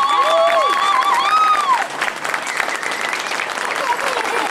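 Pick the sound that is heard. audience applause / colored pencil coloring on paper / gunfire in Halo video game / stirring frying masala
audience applause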